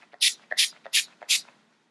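Urban Decay All Nighter setting spray fires in four quick, close hissing bursts, evenly spaced, with faint rattles and shuffles between them.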